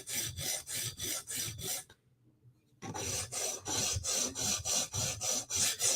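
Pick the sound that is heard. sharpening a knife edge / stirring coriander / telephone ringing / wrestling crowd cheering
sharpening a knife edge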